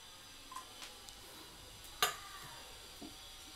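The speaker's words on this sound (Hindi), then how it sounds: "ड्राई फ्रूट्स को पहले फ्राई करने से इसका टेस्ट और बढ़ जाता है, इसलिए हम इसको थोड़ा फ्राई कर लेंगे" Almonds fry in a kadai as they are stirred: a faint, quiet sizzle under scattered soft clicks of a utensil against the pan, with one sharper clink near the middle.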